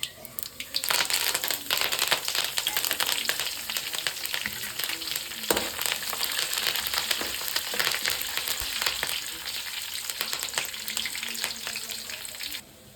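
Chana dal and urad dal fry steadily in hot oil in a pan as tempering for vermicelli upma, a dense continuous sizzle with crackling pops and occasional stirring scrapes, close and loud with no talk.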